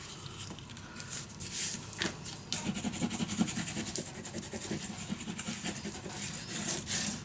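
Paper is burnished onto a Prima Darcelle mini album with a tool. Faint, continuous close rubbing and scratching strokes run throughout, with light scrapes and no talking.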